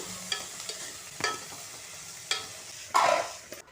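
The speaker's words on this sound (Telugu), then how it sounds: "తాలింపు వేగాక ఉల్లిపాయ ముక్కలు వేసుకోవాలి. వేసుకున్నాక ఇలా కలుపుకోవాలి." Onion pieces being stirred into a hot tempering of cumin and green chilli, a soft sizzle under intermittent scraping clicks of a spoon against the pan, with a louder stir near the end.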